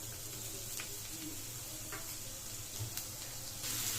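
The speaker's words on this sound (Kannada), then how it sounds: "ಈರುಳ್ಳಿನ ಚೆನ್ನಾಗಿ ಗೋಲ್ಡನ್ ಬ್ರೌನ್ ಕಲರ್ವರೆಗೂ ಫ್ರೈ ಮಾಡ್ಕೊಂಡಿದ್ದೀವಿ" Chopped onions fry in about a tablespoon of hot oil in a pan, a faint, steady sizzle with a few soft clicks from stirring, and no talking.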